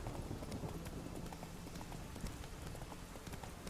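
Roach the horse trotting in The Witcher 3, hooves clip-clopping in a steady rhythm across the whole stretch, with a rain-like patter and a soft game ambience underneath.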